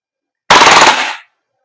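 Action Army AAP-01 airsoft pistol firing a single rapid full-auto burst, loud and close, a fast rattle of shots lasting under a second before cutting off.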